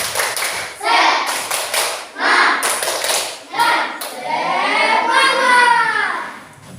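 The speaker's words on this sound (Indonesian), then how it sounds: "Tepuk semangat." A classroom of pupils performs a rhythmic group clap, short bursts of sharp claps and thumps in a set pattern, broken up by children chanting and a sustained sung phrase near the end.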